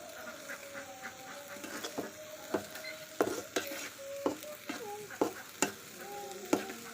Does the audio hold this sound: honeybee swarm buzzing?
no